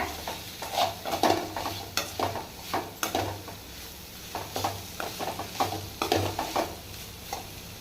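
Chicken fries in a pan while a spoon stirs it repeatedly, with rhythmic scraping strokes and light clinks over a constant sizzle, close and clear, and no one speaking.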